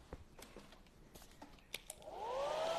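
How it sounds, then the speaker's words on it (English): A hair dryer switches on and blows steadily across a freshly painted stencil, rising to a loud, even whir after some faint tapping and handling sounds. "I'll just hit that with the hairdryer and see"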